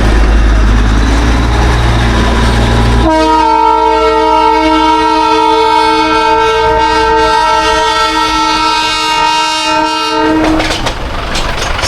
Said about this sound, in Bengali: টয় ট্রেন টয় ট্রেন আর টয় ট্রেন, কি সুন্দর লাগছে